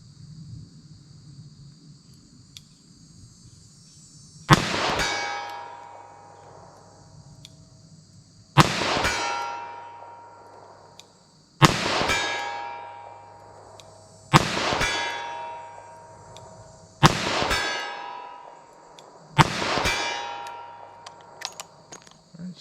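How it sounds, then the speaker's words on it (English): A .38 Special revolver is fired slowly at steel targets 75 yards out, with six sharp reports spaced a few seconds apart, each followed by a ringing decay, and no talking. "So let's see what I get here with our 38 Special. 75 yards, just firing slow."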